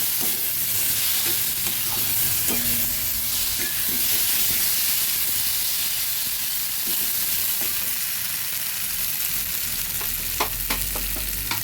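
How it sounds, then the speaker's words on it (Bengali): Potatoes fry in a pan for a tengra fish curry, making a loud, constant hissing sizzle with scraping and clattering stirring sounds throughout. "হ্যাঁ, আলুগুলো ভাজা হয়ে গেছে।"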